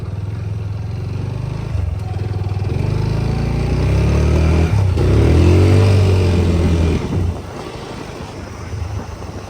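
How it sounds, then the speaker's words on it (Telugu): A motorcycle engine idles, then pulls as the clutch is released and the bike rolls forward, a close, loud rumble that swells for several seconds before dropping back to a lower idle. "బండి స్టార్ట్ చేసిన తర్వాత క్లచ్ రిలీజ్ చేస్తే బండి అయితే ముందుకి ముందుకు వెళ్తుంది"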